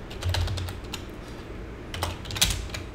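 Command being typed on a computer keyboard, a quick run of key clicks, then a pause and a second burst ending in a sharper keystroke, near and without voices.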